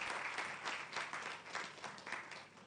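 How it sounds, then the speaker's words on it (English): A hall audience at a justice innovation regional final in Lagos claps in a warm, steady burst of applause, a moderate crowd heard somewhat faintly with a few louder individual claps standing out. "Can I ask our audience to give us one more round of applause for the fascinating discussion that we had?"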